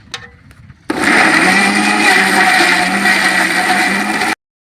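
An electric mixer grinder whirs loudly and steadily for several seconds, grinding ingredients into a paste in a village kitchen, starting abruptly after a brief quiet moment and cutting off sharply at the end.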